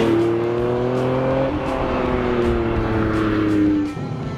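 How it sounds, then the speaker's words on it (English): Honda NSX V6 with VTEC gives a loud, close, steady trumpeting engine note with layered harmonics that climb and hold, then ease off near the end, with no voices over it. "There's not much like drama or theater to it beyond the VTEC trumpeting behind me with that lovely V6."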